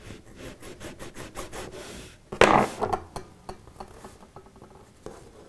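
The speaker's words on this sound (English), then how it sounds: "I'm just grinding that down, filing it down so that it goes into the wood straight and clean" Hand filing of brass inlay edges for a bent-veneer wood ring, heard as a quick series of short scraping strokes with a louder rasping burst midway, close up and alone.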